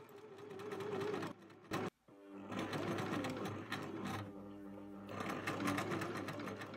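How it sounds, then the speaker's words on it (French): A sewing machine stitches a blouse neckline and V-opening 1 cm from the edge in a single pass. Close, rapid stitching runs almost continuously, with one brief halt near the start. "On peut alors piquer l'encolure et le V en une seule fois. On pique à 1 cm du bord."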